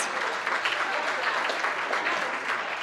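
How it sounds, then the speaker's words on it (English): An audience gives a round of applause at a staff well-being event: dense, steady clapping from many hands, close and even, sustained for about three seconds without a break. "Can we give them a round of applause?"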